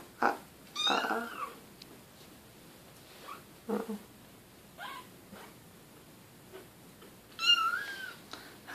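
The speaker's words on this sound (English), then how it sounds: "Six kittens." Several four-week-old kittens meow in short, scattered bursts, some high and squeaky, over a quiet room background, with a louder cluster near the start and another toward the end.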